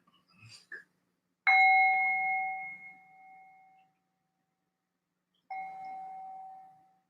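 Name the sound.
bell ringing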